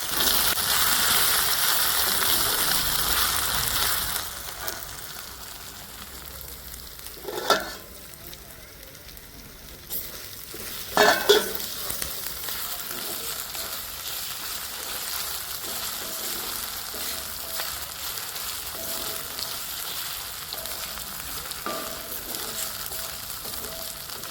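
Ginger-garlic paste fries in hot oil for an okra chicken curry, a loud hiss at first that settles into a softer steady sizzle, broken by a few sharp clatters of a spoon against the pan.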